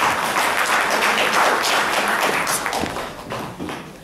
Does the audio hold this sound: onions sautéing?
no